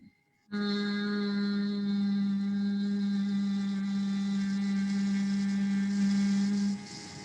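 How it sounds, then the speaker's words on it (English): A single steady, sustained hum from a person during pranayama breathing practice holds an even pitch for about six seconds before stopping. "just make this humming sound and let there be an imprint of the vibration"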